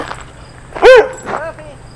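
Dogs at a campground in Theodore Roosevelt National Park give a loud, close bark followed by a softer yip and whine, over a quiet outdoor background.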